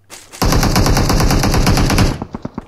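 Rapid burst of MK rifle fire in PUBG Mobile, loud and close, a dense stream of shots for about a second and a half, then a handful of separate single shots trailing off.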